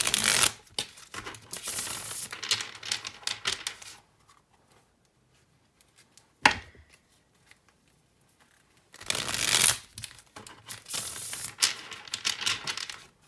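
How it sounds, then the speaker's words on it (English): A tarot deck is shuffled close to the mic in two bursts of rapid riffling and flicking, with a quiet pause and a single soft tap between them. "Let's do some more shuffling."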